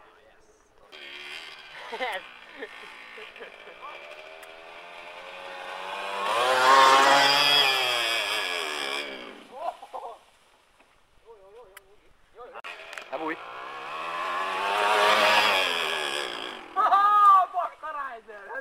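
Enduro motorcycle engine revving in two long, rising surges separated by a pause, close and loud, with people talking and shouting around it.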